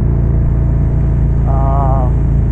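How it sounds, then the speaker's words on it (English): A Harley-Davidson Street Glide with a 117 engine, upgraded cam and Rinehart DBX45 exhaust rumbling loudly and close in a deep steady drone, with a voice talking over it. "With this cam on this 117 and the DBX45s, you get plenty of sound."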